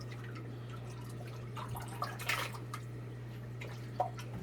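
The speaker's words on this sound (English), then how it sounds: "So I'm going to go ahead and dump a little bit of brine shrimp in this tank first." Brine shrimp are poured into an aquarium tank, giving a few faint drips and a soft splash of water over a steady low pump hum, with no voices.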